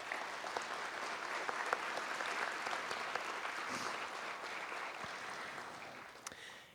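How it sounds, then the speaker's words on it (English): Sustained audience applause at a police department awards ceremony, a dense even roar of many hands clapping in a large hall that slowly tapers off at the end. "So please give them a round of applause to welcome them."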